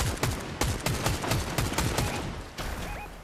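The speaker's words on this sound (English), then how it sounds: "People are fucking shooting me right now" Video game gunfire during a hectic shootout: rapid bursts of close, loud shots in a steady stuttering rhythm for most of the stretch, then a brief gap and more shooting, with a few faint game tones and no talking.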